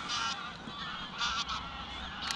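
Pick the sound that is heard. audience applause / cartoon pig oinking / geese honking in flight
geese honking in flight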